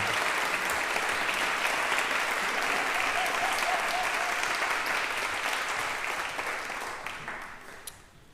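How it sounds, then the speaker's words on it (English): A church audience applauds the community band's trumpet and saxophone soloists at a swing concert, steady dense clapping that holds evenly for several seconds and then thins and fades out near the end. "Let's give them a round of applause"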